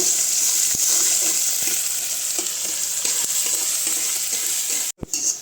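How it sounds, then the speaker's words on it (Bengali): Onions sizzle steadily in hot oil with dried chillies, a constant crackling hiss broken by a few clinks of a stirring spoon, with a brief pause near the end. "পেঁয়াজগুলো লাল লাল করে ভেজে নেব।"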